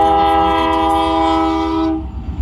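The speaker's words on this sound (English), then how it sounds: "I was stopped by a train" A train horn blares a loud sustained chord close by as a train passes, then cuts off near the end with rail rumble beneath.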